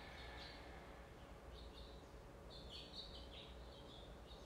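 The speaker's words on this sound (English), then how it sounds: "Do you have as many birds chirping at your house?" Small birds chirp faintly outside a house, with scattered high tweets over a steady quiet background hiss and no talking.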